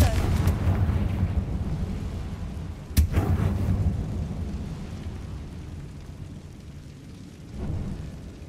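A Confringo fire spell from the Hogwarts Legacy video game fires with one sharp, loud blast partway through, over rumbling battle ambience, with a second softer burst near the end.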